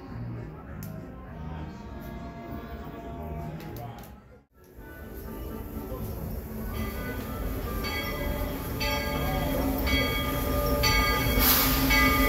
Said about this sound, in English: Just waiting for the next train to come now.